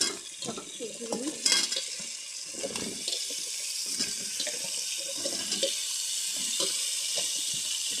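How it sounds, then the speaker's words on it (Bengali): Mixed vegetables with chunky, half-softened tomatoes frying in a pan, a steady soft sizzle with wet bubbling and occasional stirring scrapes, close and continuous with no talking. "সবজিগুলি সব ভেজে নিয়ে নেব।"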